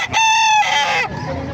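A single loud, close rooster crow rings out from gamefowl such as Lemon and Gilmore hatch roosters. It is brief and strained, with a sharp start and a trailing tail, and no talk over it.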